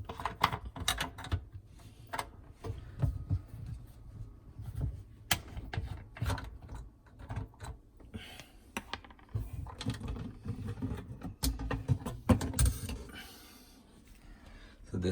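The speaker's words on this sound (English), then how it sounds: "I'll remove these two screws and this mesh will come out." Two screws being backed out of the filter mesh inside a GE Café dishwasher, producing a steady run of small scraping, clicking and rubbing handling sounds close by over about fifteen seconds, with no talking.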